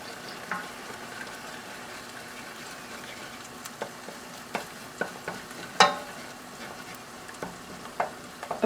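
Eggs stirred and frying in a hot pan for Singapore noodles: a steady low sizzle with scattered scraping and clicking stirs, a sharper clack near the middle, and no talk.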